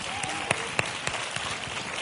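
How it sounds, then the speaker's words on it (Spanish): Audience applause at a Spanish-language congress session: a thin, moderate patter of scattered clapping with a few sharp individual claps standing out, filling the short moment without much swell. "Un aplausito para ustedes"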